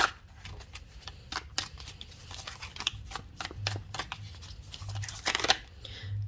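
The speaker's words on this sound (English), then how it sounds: "let me keep shuffling" Tarot cards are shuffled by hand in quick papery riffles and snaps, close up and uneven in rhythm, with faint low talk between the bursts.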